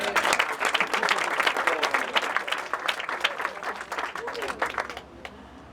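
An audience claps warmly at a debate grand final in the House of Lords, a loud dense round of applause that slowly fades toward the end.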